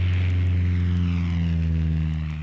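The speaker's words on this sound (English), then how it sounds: "we'll smoothly pull the control wheel back until we assume a nose-high attitude and the airplane begins to climb" A propeller airplane takes off and climbs, with a loud, steady engine drone and a throbbing, pulsing beat close by.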